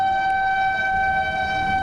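A train horn sounds continuously and loudly throughout, a steady sustained blare over rumbling rail noise, as a train passes near railway tracks where sleeping laborers were struck.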